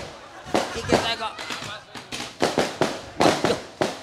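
Firecrackers set off during an Indonesian August independence celebration, a rapid run of sharp loud bangs in irregular clusters, with people talking and shouting over them.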